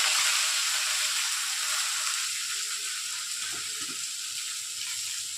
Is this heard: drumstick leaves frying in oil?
yes